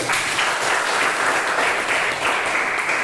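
Schoolchildren in a classroom clapping their hands together, a dense, steady round of applause heard close by throughout.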